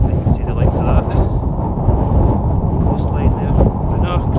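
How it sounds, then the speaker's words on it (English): Gusty wind on a sub-zero winter summit in Scotland buffets the microphone in a low rumbling roar, with faint speech-like sounds underneath. "A wee bit windy."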